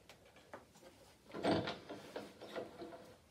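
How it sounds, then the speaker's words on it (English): Small door creaking and sliding open in a model theatre performance of a Victorian vampire melodrama, a soft mechanical scrape swelling briefly in the middle of the clip and fading into faint clatters, heard close and alone. "Look, Mr. Blue's door is opening."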